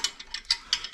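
A ratchet clicks rapidly while tightening bolts on a TeraFlex HD Falcon rear shock skid plate, about eight crisp, close ratcheting clicks packed into one second.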